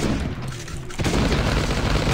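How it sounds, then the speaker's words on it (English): An automated turret fires on the player in the zombie survival game Last Day on Earth, its loud bursts of gunfire and booms running almost continuously with a brief dip near the start. "Oh, that's a turret shooting me."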